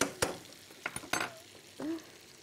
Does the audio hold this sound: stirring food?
yes